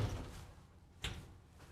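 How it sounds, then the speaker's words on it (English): A shower door slides briefly in a motorhome bathroom, a faint rolling swish followed by a soft knock as it closes, heard alone in a quiet room. "And an actual really nice shower door."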